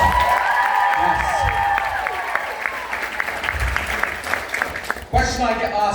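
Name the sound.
audience applause and cheering at a live show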